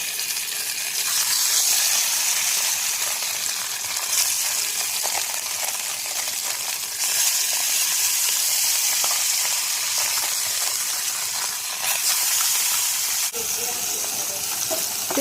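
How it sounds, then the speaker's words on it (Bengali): Flat beans and potatoes, then taki fish, fry in a pan for a mashed bhorta dish, making a loud, continuous hissing sizzle that holds steady throughout, with faint occasional clinks. "প্রথমে সিম আর আলু ভেজে নিচ্ছি, তারপর দিয়ে দিচ্ছি টাকি মাছ"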